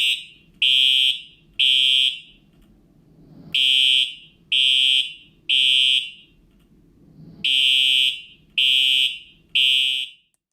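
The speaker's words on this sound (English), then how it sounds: "Here is an example of our fire alarm." A fire alarm sounds in repeated bursts of three loud, high electronic tones with short pauses between groups, no voices.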